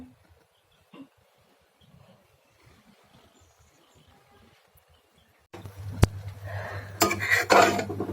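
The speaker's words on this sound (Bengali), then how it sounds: "এই যে নুডলস রান্না করছে আমার বৌমা চিকেন দিয়ে" A cooking pot and utensils clatter and scrape while noodles cook with chicken. The kitchen is nearly silent at first, then a burst of close metal clanking and stirring begins and continues to the end.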